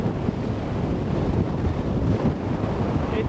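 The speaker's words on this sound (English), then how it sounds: "it's windy." Strong wind blasts across an open microphone at sea off the Swedish west coast, roaring steadily with low buffeting gusts and the wash of surf underneath, loud and continuous with no voices.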